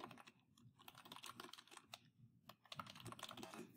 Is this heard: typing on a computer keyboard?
yes